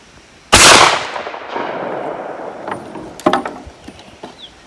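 A 20 gauge shotgun fires a Lyman pellet slug reload at an outdoor range: one loud, close blast that rings off into a long fading echo, followed by a few faint clicks and knocks.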